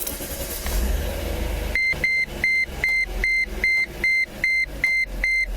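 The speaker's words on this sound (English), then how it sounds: "You can go ahead, start the car." A Mercedes-Benz car engine cranks and starts, followed by a steady run of regular electronic dashboard beeps, about a dozen evenly spaced chimes over a low engine hum.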